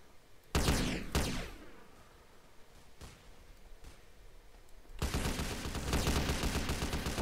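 Paintball gunfire in GTA San Andreas multiplayer, two sharp close shots early, a few fainter pops in the middle, then a rapid sustained burst of firing to the end.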